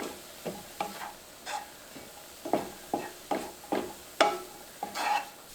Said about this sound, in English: And then just mix this around for 30 seconds or so.